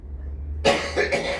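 Two quick dry coughs from a person on an indoor talk show, close to the microphone, the second following about half a second after the first, after a quiet pause.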